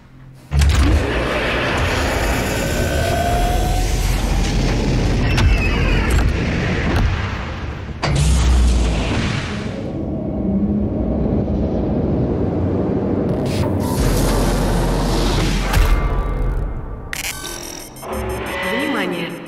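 A capsule being lowered in the video game Doom Eternal gives off a loud, continuous mechanical rumble and hiss with sharp clanks and bursts along the way, close and steady for most of its length.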